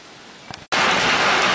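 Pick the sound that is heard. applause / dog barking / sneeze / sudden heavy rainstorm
sudden heavy rainstorm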